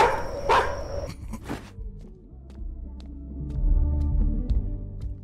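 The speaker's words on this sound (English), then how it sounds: "I hear the dog." Barking from a dog in a horror karaoke video game, a few short bursts early on, fairly loud, followed by low rumbling hum and faint ambient game tones.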